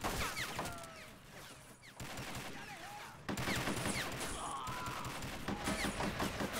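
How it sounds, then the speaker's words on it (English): Continuous G3 rifle fire in the Red Storm mod for a video game, heavy overlapping gunshots and bursts in a loud, chaotic trench battle, with whizzing and distant fire running throughout. "that guy with the G3 is just gonna gun him down"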